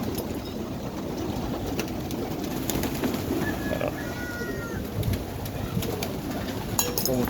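Sickly pigeons kept on a poultry farm coo softly among themselves, with low repeated calls under a busy background murmur and occasional faint higher bird chirps, and no talk.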